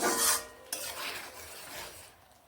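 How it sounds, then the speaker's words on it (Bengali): Fried potatoes stirred into a thin catfish curry in a pan, a close scraping, rasping stir that starts loud and settles into softer rubbing strokes, with no voices. "এই ঝোলের সঙ্গে আলুগুলোকেও মিশিয়ে নিচ্ছি"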